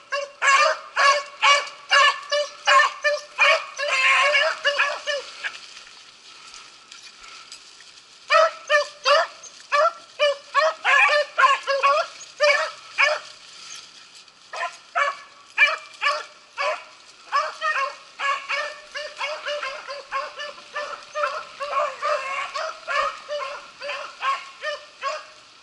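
Beagles in full cry while running a trail at a beagle club, many bursts of barking and baying in a group that come and go across the field, moderately near, with brief pauses and some faint human voices.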